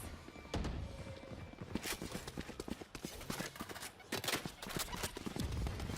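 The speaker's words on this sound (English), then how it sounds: "You hear all those footsteps." A team's rapid, clattering footsteps move across the ground in a competitive video game match, dense irregular thuds over a steady background, with some commentary voices faintly present.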